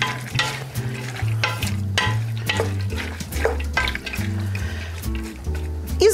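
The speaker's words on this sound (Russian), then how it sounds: "Высыпаем нашу морковочку. Очень хорошо обратно все перемешиваем." A spoon stirs a boiling pot of bean salad after carrots are tipped in, scraping and sloshing over a constant bubbling simmer as the homemade preserve is mixed, close and clear without talk.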